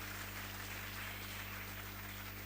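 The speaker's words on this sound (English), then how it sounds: "So I think the people who feed you, you have to clap the most for them." An audience claps at an international conference of chief justices, a dense steady wash of applause heard quietly and evenly throughout, with no voices over it.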